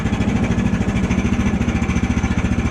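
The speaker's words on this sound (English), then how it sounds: "That's the pinging of the clutch." The engine of a portable sawmill idles at a slightly raised throttle with a steady, close, pulsing drone. A faint rhythmic pinging from the clutch runs under it, and no one speaks.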